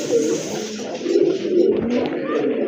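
White pigeons kept for sale coo in soft, low, repeated calls, close by and steady, with faint background murmur.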